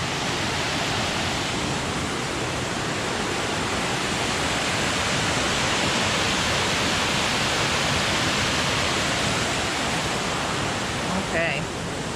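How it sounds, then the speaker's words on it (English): Waterfall at a first drop along a hiking trail, roaring as a steady, loud broadband rush of falling water that fills the whole stretch, with a brief faint voice near the end. "Oh, the water looks so nice."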